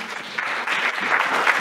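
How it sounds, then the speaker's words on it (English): An audience at a medical school event on Parkinson's disease claps for the sponsors, a short, fairly loud burst of applause that swells slightly toward the end. "Let's give them a hand clap."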